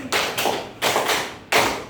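A class of schoolchildren claps in a counted clapping game, three sharp group claps about 0.7 seconds apart, close and fairly loud, each one ringing briefly with no talking.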